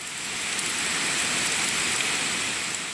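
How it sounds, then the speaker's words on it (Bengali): Heavy rain with gusty wind from a low-pressure system pours down over Bangladesh in a steady, dense hiss that never lets up, loud and unbroken throughout. "দেশের বিভিন্ন স্থানে নেমেছে প্রবল বেগে বৃষ্টি বইছে ঝোড়ো হাওয়া"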